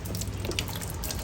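Water sprays in a steady, close hiss from a pressurized water line on a 2023 Entrada 2200S RV during de-winterizing, continuous for the whole moment with no voices.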